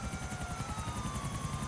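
Helicopter in GTA IV hovering close by, a steady loud rotor chop with a whining turbine tone running unbroken throughout, no voices over it.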